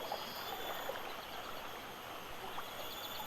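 Water flowing near rice terraces in the video game Heaven's Vault, a soft, continuous rushing stream with faint trickles and a steady high tone over it.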